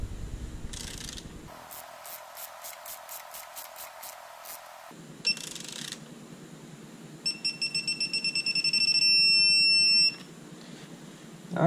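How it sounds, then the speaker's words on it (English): Electronic beeping from a digital torque wrench: a fast series of short pulses rising into a continuous high-pitched tone, with mechanical clicking and hum around it. "you'll hear the beeping"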